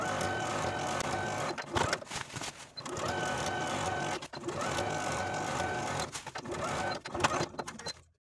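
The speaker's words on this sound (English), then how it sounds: "I'll take it to the sewing machine and edge stitch close to that inner fold all the way around" A sewing machine edge-stitches a blouse in steady sustained bursts with brief pauses between, its mechanical whir close and fairly loud.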